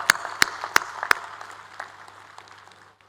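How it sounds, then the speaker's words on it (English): Audience applause for graduating students at a university convocation ceremony: a few sharp, loud claps at the start, then scattered, thinning clapping that fades toward the end. "give a big round of applause to our graduating students"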